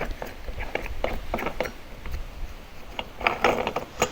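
A nut being fitted and turned by hand on the clutch of a Stihl MS 180 chainsaw, giving a close series of small metallic clicks and ratchety taps, irregular and fairly quiet, with no talk.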